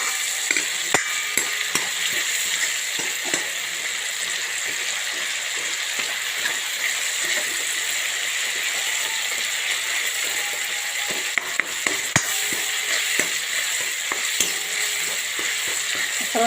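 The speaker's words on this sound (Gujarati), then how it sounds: "શેકાઈ જાય ટામેટા મસાલા કરી લઈશું આપણે" Tomato gravy fries in a pan with a steady, bright sizzle while a spoon stirs and scrapes against the metal in repeated clicks. The sound is close and continuous, with no talking.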